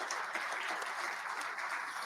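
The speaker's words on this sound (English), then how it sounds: "How about a round of applause for those two gentlemen?" A conference audience claps for the organizers in a short burst of steady, moderately distant applause with no talking.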